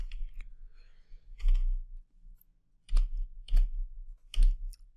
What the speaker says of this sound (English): We will type the part number